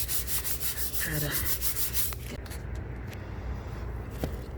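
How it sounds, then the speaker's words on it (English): Scrubbing a wall in a house: rapid, rhythmic rubbing strokes close by, loud at first and then fading to softer, scattered scrapes, with a brief spoken word. "I scrub and scrub and scrub."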